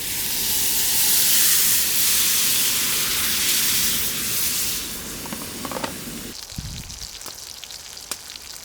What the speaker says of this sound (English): our cast iron skillet is really starting to heat up, so time to put the steak on